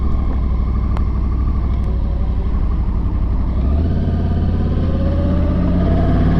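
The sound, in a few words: Yamaha R1 motorcycle engine running in B mode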